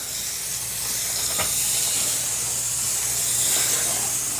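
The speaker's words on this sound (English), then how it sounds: "Sometimes you get really big bursts of steam." A Shark steam mop hisses steadily as it releases steam, a broad continuous spray with a brief click partway through and the hiss swelling slightly toward the end.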